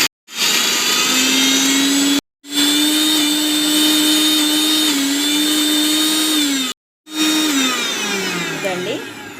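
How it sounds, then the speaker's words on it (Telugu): A kitchen mixer grinder whirs loudly through toor dal chutney with tamarind water, running in three long bursts with short stops between, its motor pitch wavering as the paste thickens. "మొత్తం మిక్సీ పట్టుకుందాం మళ్ళీ."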